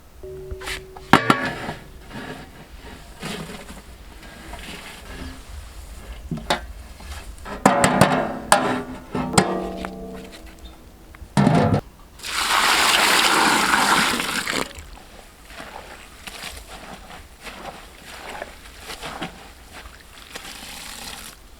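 Rose petals washed in water in a kitchen, with intermittent splashes and sloshing, then a loud gush of running water for a few seconds before quieter handling noises resume.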